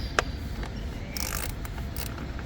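A ratchet works on 10 mm bolts in a BMW E46 engine bay, with quick clicking pawl ticks and a few metallic clinks over a steady low background hum, close and brief.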